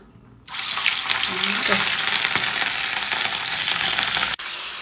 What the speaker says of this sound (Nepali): अब यसलाई चाहिँ मजाले भुट्नुपर्छ।